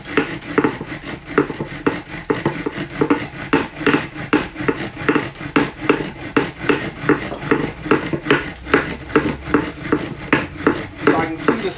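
Bow drill spindle rubbing hard against a wooden fireboard notch to build an ember, a steady rasping back-and-forth friction in quick regular strokes, close and loud throughout with no talk.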